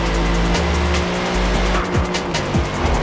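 A BMW M8 GTE race car brakes hard at Brands Hatch, its engine note dropping through downshifts in a loud, close drone while tires scrub and squeal briefly near the end.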